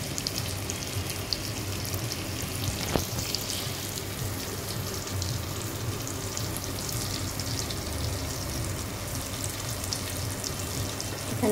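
Onions frying in butter over a low flame give off a steady, fairly quiet sizzle that holds evenly throughout, with one brief sharp click partway through and no talking.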